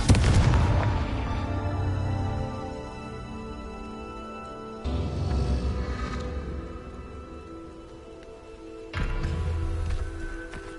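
Confringo fire spell going off in the Hogwarts Legacy video game: loud booming blasts, a heavy one at the start followed by two more bursts spaced a few seconds apart, each with a rumbling tail and no talk.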